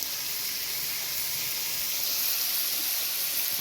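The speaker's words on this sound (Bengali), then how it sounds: "দেখতে পাচ্ছেন এটা পুর ভাজা।" A pan of frying stuffing made with black sesame gives off a continuous, even sizzling hiss at close range, with no voices over it.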